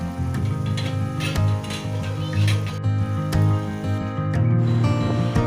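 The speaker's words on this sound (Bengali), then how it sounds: "এখানেও ভালোভাবে মশলাগুলোকে কষিয়ে নিচ্ছে।" Spices, ginger-garlic paste, green and dried chillies and chopped tomato sizzle and fry in a pan, a steady crackling hiss broken by scraping stirs, close and continuous.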